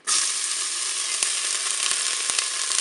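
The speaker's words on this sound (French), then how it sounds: "Allez, mon huile est chaude, je vais mettre mes morceaux d'oignon." Onion pieces dropped into hot olive oil in a Cookeo multicooker, giving a loud, close, continuous sizzle that starts abruptly and holds steady, with a few faint clicks.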